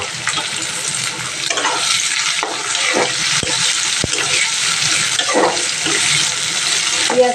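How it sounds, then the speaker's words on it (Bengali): Onion frying in oil with cumin seeds in a wok, a steady broadband sizzle with occasional stirring clicks, close and continuous with no talking. "দেখো কড়াইতে তেল দিয়ে জিরে ফোড়ন দিয়ে দিয়েছি। এবার এই যে পেঁয়াজটা"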